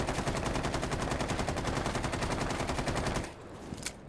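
Rapid automatic gunfire from the video game Rainbow Six Siege, a sustained suppressing burst of dense, evenly spaced shots that runs loud for about three seconds, then cuts off to quieter room tone with one faint sharp click.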